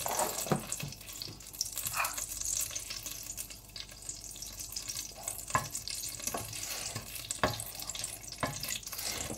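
Butter sizzling in a pan as mussels marinière are prepared, a steady soft frying hiss with occasional stirring scrapes and clinks, fairly quiet, no talk.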